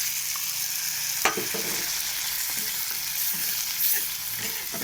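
Vegetables and egg bhujia in a hot pan hiss in a loud, even frying sizzle just after a splash of water goes in, with a couple of faint utensil knocks.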